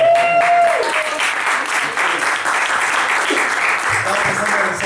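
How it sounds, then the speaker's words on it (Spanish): Audience applause at a live comedy show in a small venue, steady energetic clapping throughout with voices talking over it. "un aplauso para Leo Daniel"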